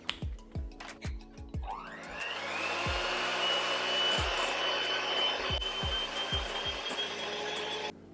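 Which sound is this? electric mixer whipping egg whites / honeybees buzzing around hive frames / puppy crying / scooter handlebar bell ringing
electric mixer whipping egg whites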